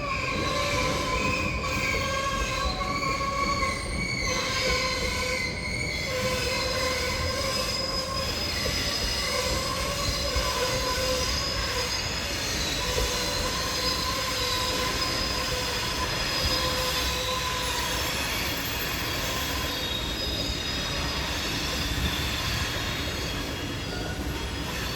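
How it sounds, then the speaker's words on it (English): A train passing with brakes squealing, sustained high-pitched metallic screeching and rumbling rail noise filling the whole stretch continuously, loud and close, with no voices. "Probably hear the train brakes too."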